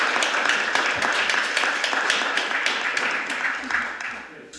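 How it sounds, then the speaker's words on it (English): Audience applause fills a special Oxford City Council meeting held to grant the Freedom of the City: a dense, steady wash of clapping that holds for several seconds and then thins toward the end. "I think the rest of the planet would probably join us for a round of applause."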